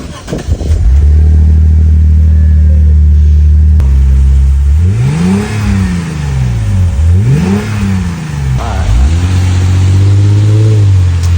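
Lexus IS 250 fitted with an HKS axleback exhaust, revving loudly and close up: a steady idle broken by three sharp rising-and-falling throttle blips, with a raspy, booming exhaust note and no talk.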